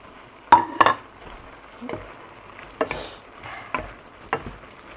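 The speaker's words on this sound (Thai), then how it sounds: "ใส่พริกที่เราหั่นลงไป แล้วก็ใส่ต้นหอมนะคะ" Squid stir-fried in a pan with sliced chilies and green onions, sharp metallic clinks of a spatula scraping and tapping the pan in irregular bursts over a faint, low sizzle.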